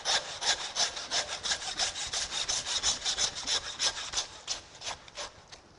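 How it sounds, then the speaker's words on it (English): A handsaw cuts through beef vertebrae between the fourth and fifth ribs of a chuck, giving loud, close, rhythmic rasping strokes, about four per second, steady from start to finish with no voices. "Then with the handsaw, slice through the vertebrae between that 4th and 5th rib."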